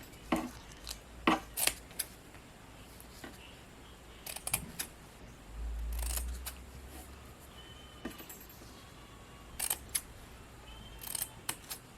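Scissors snip the ends of a Christmas craft in a handful of sharp, close clicks spread unevenly over a quiet room, with a brief soft rustle midway.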